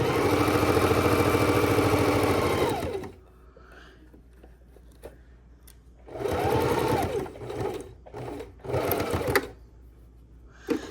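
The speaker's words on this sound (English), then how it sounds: "I'm going to set it back down and continue stitching" Sewing machine stitches a fabric drink coaster made from scrap squares, running in a steady whirring hum, then pausing and restarting in several shorter bursts.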